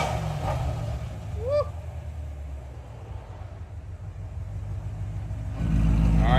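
A Shelby GT350 with a Corsa Extreme exhaust, valves closed, idles with a low, steady rumble, fairly subdued, and swells louder in the final second.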